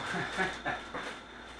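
Indoors during the unboxing of an E-Flite Carbon-Z Cub RC plane, a tired dog pants nearby in a few soft, breathy, rhythmic bursts that fade toward the end.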